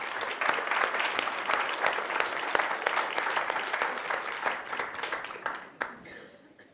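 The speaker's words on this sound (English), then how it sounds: "We have a little one in the back of the room that was applauding and cheering." Applause with some cheering from an audience at a city council meeting, steady dense clapping that fills the room and then tapers off near the end.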